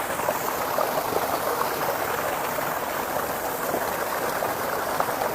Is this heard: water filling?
yes